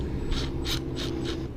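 Self-tapping sheet metal screws being driven into a commercial steel door for a store room lock, heard as four rhythmic bursts of grinding, ratcheting driver noise over a steady low hum.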